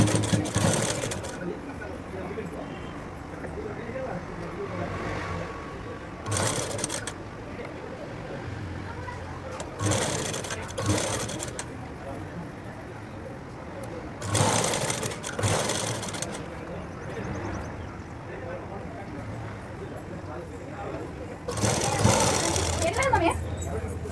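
A sewing machine stitches a plain blouse in several loud, rapid whirring bursts separated by pauses, with someone talking between runs.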